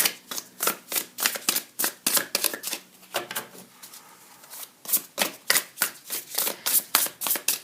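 A deck of tarot cards is riffled and shuffled in quick rhythmic bursts, with a brief pause where cards are drawn. The sound is close and crisp, with no voices.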